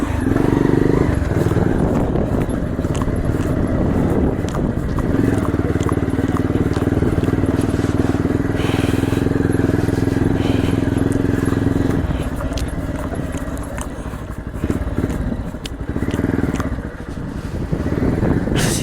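Bajaj Pulsar motorcycle climbing a rough off-road trail at Varattumedu, Vagamon, its engine revving and labouring close by with gravel crunching and rattling, the pitch rising and easing as it works uphill.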